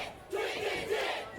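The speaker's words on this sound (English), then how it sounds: "I'm not sure who the crowd is directing this chant toward." A wrestling crowd at a live show chants in unison, giving two loud rhythmic shouted pulses over a noisy arena roar.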